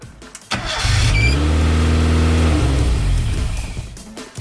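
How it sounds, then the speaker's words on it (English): Karma Dino kit car engine cranks briefly, then fires and catches, rising into a loud, close, steady run that eases off slightly toward the end. "The car starts."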